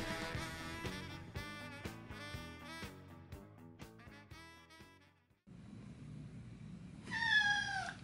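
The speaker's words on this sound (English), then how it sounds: "And there's my cat." A cat meows several times, a close, high wavering cry near the end, after a stretch of background music and faint room noise.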